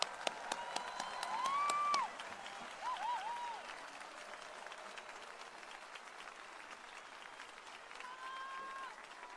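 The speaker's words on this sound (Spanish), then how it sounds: "Un gran aplauso a los nuevos titulares" Applause from a crowd at a 2021 graduation ceremony at the Valparaíso Casa Central campus, scattered claps heard fairly faintly in a large space, with a brief swell early on and sustained light clapping after.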